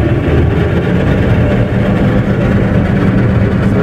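The engine of a New Holland TC 5070 combine harvester runs at raised revs, a loud, close, continuous low rumble with no clear rise or fall in pitch.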